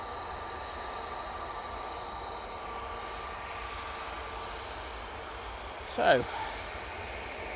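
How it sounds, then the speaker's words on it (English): Airbus A320neo jet departing Manchester Airport, a steady distant engine roar running throughout, with a brief louder swell near the end and a voice speaking briefly. "this 320 Neo going off to Lanzarote"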